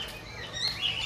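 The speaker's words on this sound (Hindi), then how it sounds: "छोटा मोटा चिड़िया," Small birds chirp at Bannerghatta National Park in Bangalore, a short burst of thin, high tweets over soft outdoor background noise.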